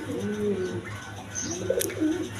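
Pigeons coo close by in soft, rolling repeated calls, with a brief sharp chirp in between and steady low background noise.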